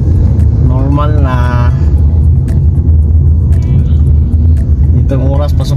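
Dense highway traffic in Kuwait heard from inside a vehicle, a loud constant low road rumble and engine drone that persists throughout, with a person talking over it at intervals.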